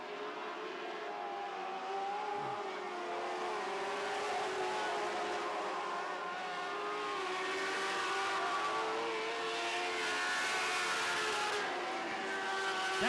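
Lightning sprint race cars roar along the back straightaway of a track at nearly 100 mph, a sustained droning engine note, moderately distant and fairly steady, with no voices over it.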